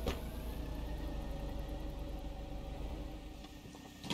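A car's engine runs at a steady hum as it drives off with its hood up in the game Contraband Police, continuous and moderately close with no talk.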